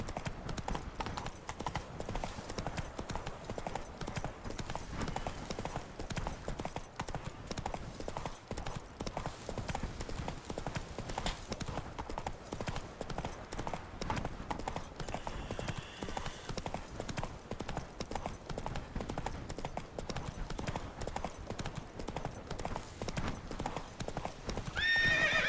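Roach, a horse in The Witcher video game, trots with a continuous rapid clip-clop of hooves, close and steady throughout, over a faint background bed.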